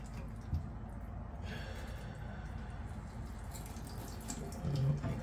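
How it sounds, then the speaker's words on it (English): Water siphoned out of a toilet tank through a tube during a Fluidmaster fill valve install, a steady low gurgling trickle running throughout, close and moderately quiet, with a brief louder slurp near the end. "So we're gonna siphon out as much water as possible."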